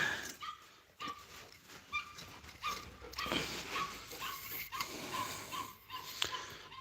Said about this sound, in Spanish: Cuanto me ve se me tira ladrando.